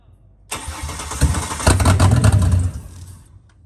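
A Ford XR6 Turbo with a Barra inline-six, fitted with a new MAP sensor and fuel rail, cranks and fires into a rough, loud start that runs for about two seconds and then dies.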